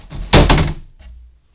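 A combat robot slams into the arena pit button during a robot combat competition: a loud, sharp double impact that quickly decays into a fainter rattle.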